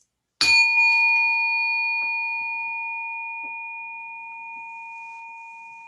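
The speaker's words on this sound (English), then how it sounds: "I'm going to ring the bell." A single bell is struck once for a mindfulness pause, a clear bright strike followed by a long pure ringing tone that slowly fades over several seconds in a quiet room.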